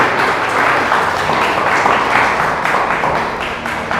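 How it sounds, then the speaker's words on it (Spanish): A church congregation applauding during a Spanish-language sermon, dense sustained clapping from a large crowd, loud and continuous throughout, easing slightly at the end. "Démosle ese aplauso a Jesús."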